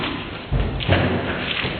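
Gnocchi frying in hot oil burst with a dull thud, a sudden low pop followed by a second thump amid the steady crackle and sizzle of the oil.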